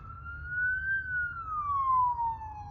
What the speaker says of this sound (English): Hear these sirens?